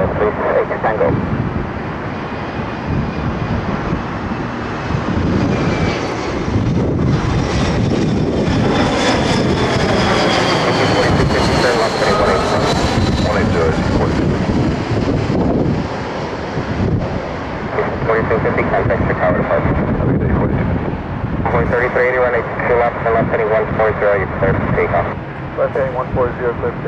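An Embraer 170 jet airliner of Shuttle America lands at Chicago O'Hare, its engines a loud, sustained roar that swells and holds, with wind buffeting the microphone and air traffic control radio chatter running underneath.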